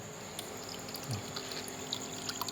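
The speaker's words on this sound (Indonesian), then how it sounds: "airnya langsung mengalir ya, bisa dilihat" Water trickles steadily from an Arduino-controlled automatic plant pot, a soft continuous pouring wash with faint dribbling detail throughout, fairly quiet and with no voices.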